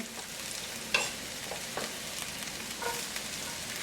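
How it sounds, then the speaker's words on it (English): Onion frying over medium heat in virgin coconut oil gives a steady, soft sizzle with a few brief clinks and stirring scrapes, close by and without speech. "to that, medium heat, we're going to go in with the onion"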